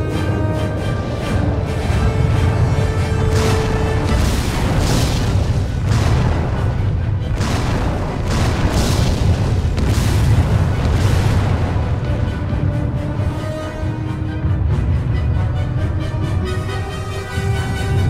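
Continuous artillery fire and explosions from the Order of War strategy game set during the D-Day invasion. Dense, heavy booms roll over one another in a loud, unbroken barrage with deep rumbling low end.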